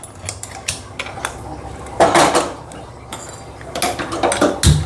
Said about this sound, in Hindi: तो अभी ये बर्तन भी धोने हैं।